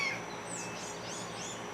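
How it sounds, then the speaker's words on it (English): Birds calling outdoors in a backyard wool-scouring setup, thin whistled and warbling calls sounding faint and distant over a quiet ambient background, with no talking. "sorry, the birds are going."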